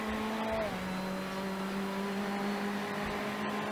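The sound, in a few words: race cars driving past in iRacing video game at Sebring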